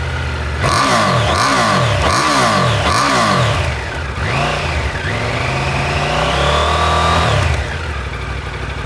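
A Triumph Tiger 900 motorcycle engine revs hard several times in quick rhythmic bursts, then holds a rising, sustained high-rev drone before easing off, loud and close with no talking.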